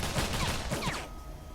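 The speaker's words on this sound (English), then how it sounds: "Does it have a chain gun on its arm?" Rapid burst of automatic gunfire from a robot's arm-mounted chain gun in the Wasteland 2 video game, a dense rattling fusillade for about a second before cutting off, with no talk over it.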